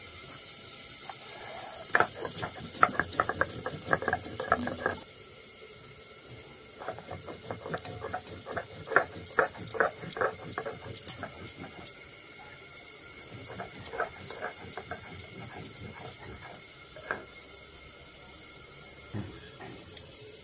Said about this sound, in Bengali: তার আগে জিরে মরিচটা বেটে নিচ্ছি।